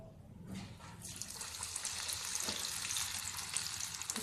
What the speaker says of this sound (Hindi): खूबसूरत सा गोल्डन फ्राई करेंगे सबको।